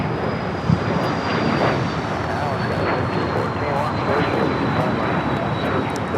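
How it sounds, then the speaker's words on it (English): A Cessna Citation CJ3 business jet at Los Angeles International Airport gives a loud, steady engine roar with a faint high whine throughout, close and continuous, while people talk over it. "This is a Cessna Citation CJ3 going to the most magical place in the world."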